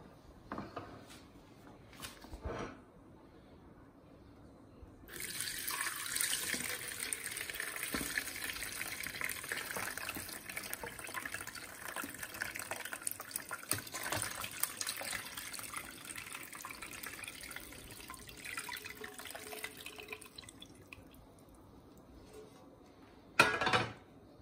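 Whey from homemade mozzarella pours through a strainer in a steady liquid rush that lasts most of the passage, fairly faint, with quieter moments before and after.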